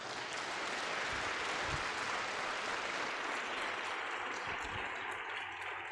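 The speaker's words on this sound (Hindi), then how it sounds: "यीशु जी के लिए ताली बजाएंगे जोर से।" An audience at a Christian peace festival gathering claps loudly for Jesus, a thick, continuous roar of applause heard at a distance and holding steady from start to finish.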